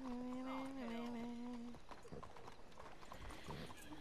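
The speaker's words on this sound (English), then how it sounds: "Damn horse." Horse hooves clip-clop on a stone street in Red Dead Redemption 2 in Saint Denis, a run of close, distinct hoof strikes, with someone speaking briefly near the start.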